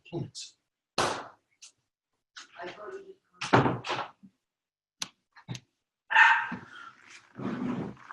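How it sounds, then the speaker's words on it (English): Dogs bark in short, scattered bursts and single yaps, some loud and close, mixed with people talking and occasional thuds like a door. "Dogs don't listen all the time."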